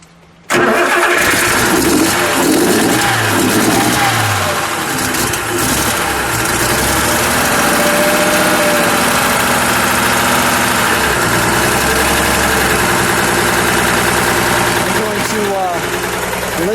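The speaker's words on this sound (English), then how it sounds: "And we'll start it up." A cold 1956 Mercedes-Benz 300SL Gullwing cranks and fires up after a moment of quiet, then settles into a loud, steady, close-up idle with a few voices speaking over it.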